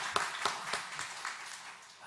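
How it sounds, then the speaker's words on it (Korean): A church congregation gives a short round of clapping, a few distinct, rhythmic claps that fade quickly, faint and somewhat distant. "우리 다시 한번 하나님 앞에 감사의 박수 올려드립시다."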